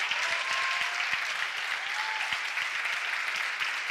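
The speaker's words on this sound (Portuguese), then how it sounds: "aplauda mais forte Jesus" Steady applause from a church congregation fills the space, a dense, even wash of clapping with occasional faint voices or calls rising through it, moderately loud and continuous throughout.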